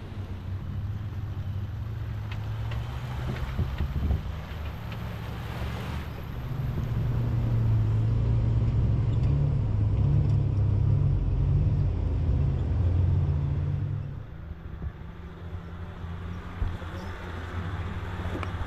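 A Jeep engine rumbles low and steady as it drives off-road over rough Colorado ground, swelling louder for a stretch before easing back, with no talking.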